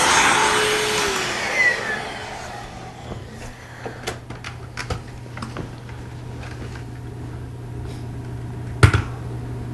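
A Tristar vacuum cleaner runs loudly in a home, a steady motor roar that opens strongly, then settles into a continuous drone with scattered ticks and rattles of debris and one sharp knock near the end.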